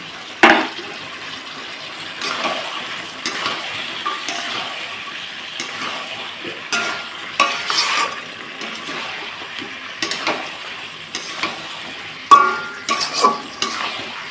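Mutton and potatoes frying in a pan while being stirred, with irregular bursts of scraping and sizzling between quieter stretches, close and fairly loud.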